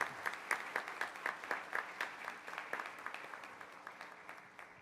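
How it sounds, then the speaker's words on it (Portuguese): An audience at a symposium claps in a rhythmic, fairly regular beat, rather distant and soft, gradually thinning out toward the end. "Eu gostaria de pedir uma salva de palmas para todos vocês."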